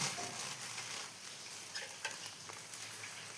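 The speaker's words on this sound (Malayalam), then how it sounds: "പഞ്ചസാരയും കുറച്ച് ഇതിൻ്റെ കൂടെ ഇട്ടിട്ട് ഇളക്കി കൊടുക്കണം" Milk and sugar being stirred together in a pan, a steady soft hiss with a few faint spoon taps against the vessel, close and quiet, no voices.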